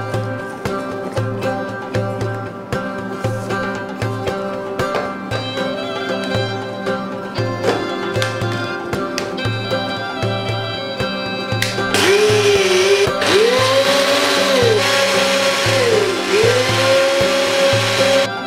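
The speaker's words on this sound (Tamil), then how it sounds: "இதை நம்ம நல்லா ப்ளெண்ட் பண்ணி எடுத்துக்கலாம்" A kitchen blender whirs continuously as it blends tahini sauce with olive oil and refined oil, its motor pulsing steadily, then grows louder and more turbulent with a rising whine partway through.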